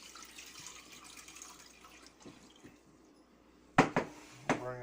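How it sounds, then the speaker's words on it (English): About a quart of water poured into a pan while brewing tea for continuous brew kombucha, a faint splash and trickle that ends in a few sharper, louder pours and clanks near the end. "And pour it in the pan."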